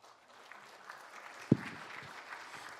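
A congregation claps in a church worship service to welcome a child attending for the first time: soft, scattered applause with one sharp knock partway through.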